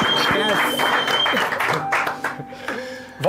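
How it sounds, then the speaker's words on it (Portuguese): Studio audience applause on a Brazilian podcast set, a dense burst of clapping and cheering mixed with loud overlapping voices and laughter, close and lively throughout. "Salva de palmas!"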